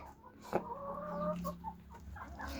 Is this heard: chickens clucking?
yes